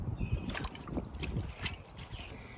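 Bunches of mizuna greens are rinsed in water, with close, gentle sloshing and splashing that swirls continuously.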